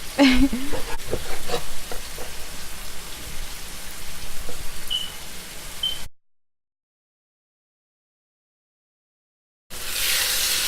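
Spaghetti with beef and chicken stir-fries in a pan, making a close, loud sizzling hiss with scattered pops and stirring scrapes for about six seconds, then a brief silence before the hiss returns.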